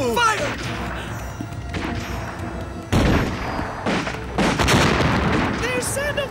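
Cannon and gun blasts crash out during an animated pirate battle, several loud booming bursts mixed with music and shouting voices.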